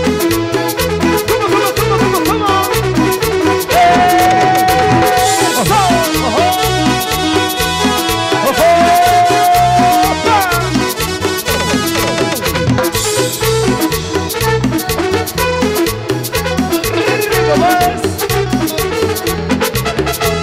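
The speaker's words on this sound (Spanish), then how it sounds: "La cumbia. Que suena así." Upbeat live cumbia plays steadily with a driving percussion rhythm and bright melodic lines, loud and continuous throughout.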